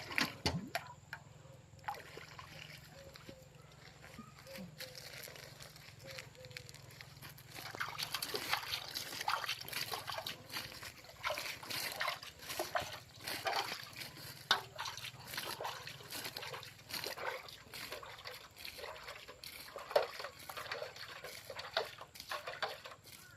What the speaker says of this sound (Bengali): এগুলোতেই আমি এখন জল দেব